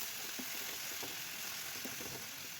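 Water, including cauliflower cooking water, poured into a sizzling pan of cauliflower curry, producing a dense, steady, close hiss and bubble with light stirring clicks and no talking.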